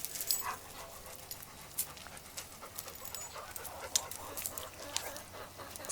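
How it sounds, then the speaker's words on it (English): A dog pants in quick, soft bursts close by. The sound is faint and broken, and there are no voices. "Silly dog."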